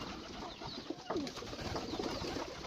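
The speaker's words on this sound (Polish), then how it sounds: "tutaj jest dużo gołębi. Latają dosyć często. I gruchają." Soft pigeon coos sound faintly against a busy outdoor background hum, with a few brief calls scattered through.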